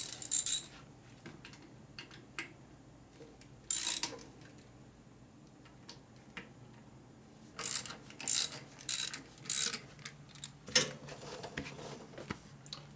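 A wheel on a Harley Evo chopper spun with dragging brakes, giving scattered clicking, ticking bursts of mechanical rubbing separated by quiet gaps, close and moderately loud.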